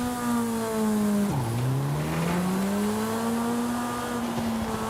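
A stock Sierra Cars Yokohama Alpha races in Forza Horizon 5 with a loud, buzzing engine. Its pitch drops sharply at a gear change, then climbs steadily as the car accelerates again.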